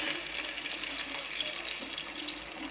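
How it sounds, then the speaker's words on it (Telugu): Steady rush of water pouring into a pan, continuous and fairly close, with no talking. "వాటర్ వేసుకున్నానండి"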